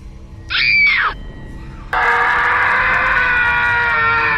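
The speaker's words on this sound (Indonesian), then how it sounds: "Suara tawa kikikan nyaring seketika berubah menjadi lengkingan jerit menyayat" A piercing scream sound effect in a horror story: a loud, wavering shriek that rises and falls for about half a second, then a harsh, sustained screeching wail that holds steady to the end.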